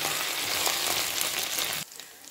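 Egg frying in a pan with ginger-garlic paste, giving a steady loud hiss and sizzle that drops off abruptly near the end, with no voices.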